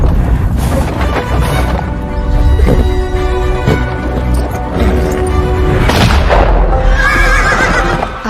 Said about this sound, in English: Victoria and Albert left for their daily open-topped carriage ride around Hyde Park.